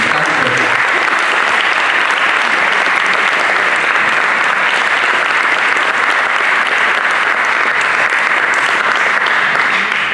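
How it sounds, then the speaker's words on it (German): Sustained, loud applause from a crowd at a press conference for the 2018 Halloween Horror Festival at Movie Park Germany, steady dense clapping lasting throughout with no break. "vielleicht mal einen ganz, ganz großen Applaus für ein fantastisches Team"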